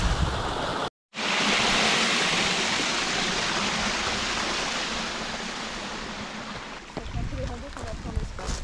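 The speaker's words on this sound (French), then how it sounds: "Petite cascade." A small waterfall spills into a pool along a hiking trail in the Basque Country, giving a steady, close rush of splashing water that briefly drops out, then continues with faint voices near the end.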